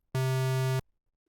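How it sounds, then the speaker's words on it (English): A synthesizer oscillator plays a square wave: a single steady, buzzy tone held for about two-thirds of a second, starting and stopping abruptly with no other sound around it. "And a square wave sounds like this."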